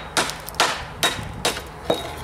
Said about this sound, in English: this stone is pretty thick, so it's going to be easier just to do it with the hammer